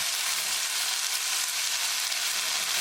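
Tomatoes and onions frying in a pan while being stirred make a dense, even, hissing sizzle that holds steady throughout, close and fairly loud.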